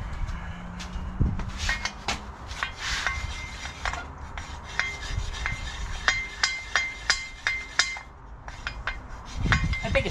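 A honing stone is rubbed in circular strokes over a Ferguson T20 hydraulic part lubricated with WD-40, giving a scraping, rasping abrasion with repeated short strokes and occasional metallic clinks, close up.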